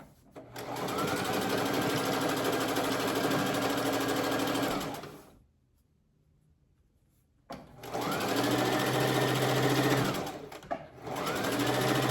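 Sewing machine stitching seams on a designer tote bag: two long steady runs of motor whir, each several seconds, separated by a brief quiet pause, close and clear with no talk.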